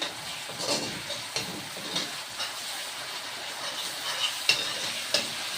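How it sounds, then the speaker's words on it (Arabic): Onion, garlic and red pepper stirred and fried in a pan give a quiet, soft sizzle broken by occasional utensil scrapes and light clinks, close and fairly faint. "وابدا احور فيها كده مع البصله والثومه والفلفل الاحمر"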